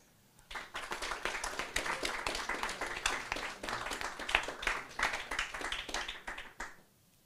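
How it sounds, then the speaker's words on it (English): Audience applause at a livestreamed concert event in Ukraine rises quickly, holds as a clear run of individual claps for several seconds, then fades out, sounding fairly close and moderately quiet. "One more round of applause."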